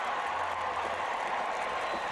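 Steady roar of a noisy stadium crowd at a 1987 Miami vs Florida State college football game, a continuous, dense wash of cheering with no clear breaks.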